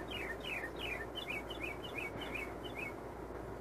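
Birds sing on a morning outdoors, giving repeated short descending chirps in quick bursts over a steady air-conditioner hum, with no talking.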